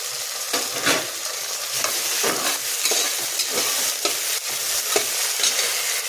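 Onion and finely chopped tomato frying for khichdi, a constant sizzle punctuated by repeated spoon strokes and scrapes against the pan at a loose, uneven rhythm.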